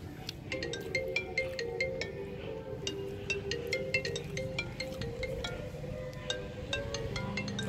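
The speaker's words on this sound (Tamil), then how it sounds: "ஃபோன் வருது, பேசிடலாம் பேசிடலாம்." A phone ringtone plays a repeating electronic melody for an incoming call, loud and continuous with a steady rhythmic pattern of tones over faint background room noise, with no talking.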